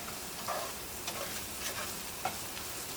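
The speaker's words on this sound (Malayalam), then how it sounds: "ഈ മല്ലിപ്പൊടി ഒന്ന് നന്നായിട്ടൊന്ന് മുരിഞ്ഞോട്ടെ" Coriander powder roasting in a pan for chicken tikka masala gives a faint, steady sizzle with a few soft stirring scrapes, heard alone and fairly quiet.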